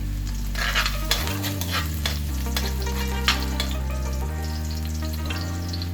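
Garlic sautés in a pan for pancit canton guisado, a loud continuous sizzle with scattered stirring scrapes and clinks close by, over a steady low hum.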